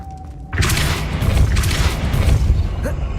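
A Depulso spell blast goes off in the video game Hogwarts Legacy. It bursts in loudly after a brief quiet moment and rumbles on as a sustained, booming roar.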